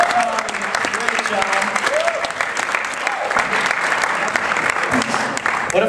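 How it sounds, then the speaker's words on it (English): Audience at a stand-up comedy show applauding the comedians, a steady, dense wash of clapping that runs the whole stretch while someone talks over it. "if we can actually just have a round of applause for all the comedians who have gone so far tonight"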